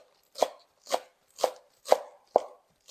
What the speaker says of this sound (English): We're going to cut them into little, almost smaller than bite-sized pieces. We want to get them thin.